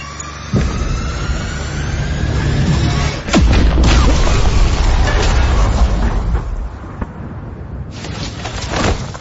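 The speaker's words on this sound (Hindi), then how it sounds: "मिसाइल फायर करने वाली है।" Missile launch and explosion in an action film soundtrack: a loud, sustained roaring rumble, a heavy boom around the middle, and a deep crash that fades before a final burst.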